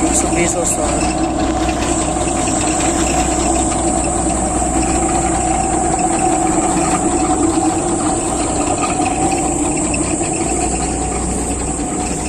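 A Ram 985 rice harvester's engine runs in a steady, loud drone with a constant low rumble and a high whine throughout, and a voice talks over it at times.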